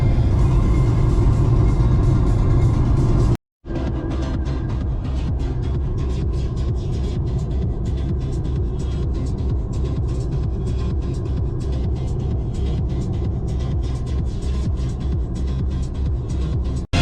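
A car drives along a road in Arizona, heard from inside as a steady, loud low rumble of engine and road noise that runs the whole way, broken by one brief cutout near the start.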